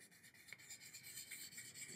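Wet sanding of a guitar's finish with 1200 grit wet/dry paper on a hard rubber block: soft rhythmic rasping strokes, close and quiet, about eight passes back and forth with no talking.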